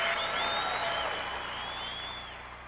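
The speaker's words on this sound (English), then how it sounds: "And the crowd loves it. You hear the roar." Crowd at a 1990 high school wrestling tournament in Oregon roars and claps right after a 9-0 win, a dense, loud wall of cheering and applause with whistles on top that fades slightly toward the end.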